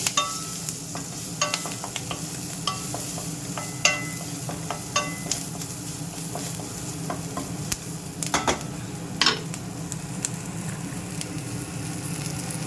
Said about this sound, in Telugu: కరివేపాకు, కొంచెం పసుపు వేసేసి కలుపుకోవాలి